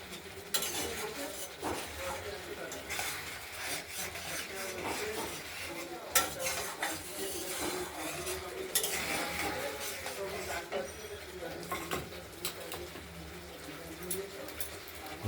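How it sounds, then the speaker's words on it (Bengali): Spices and rohu fish are stirred and fried together in a pan with aloo, broccoli and tomato, giving soft continuous sizzling under repeated scraping and clinks of a metal spoon against the pan. "কষানো হোক, তারপর দিচ্ছি মাছটা একসাথে।"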